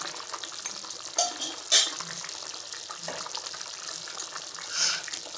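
Soft, wet scraping and sloshing of a spoon stirring thick Tamil eggplant curry (kuzhambu) in a pot, faint and continuous with a few brief louder clinks.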